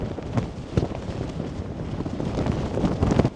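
Strong wind buffets the open deck of the Queen Mary 2 ocean liner at sea, a steady roaring rush with gusty bursts pushing against the microphone.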